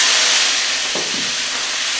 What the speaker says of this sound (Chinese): 锅热倒油哈，这个油稍微多点儿，姜、蒜、泡椒下锅